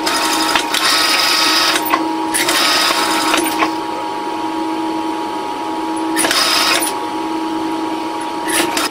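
A sewing machine stitches the body seams of a large puppet, running in several loud, close bursts separated by brief pauses.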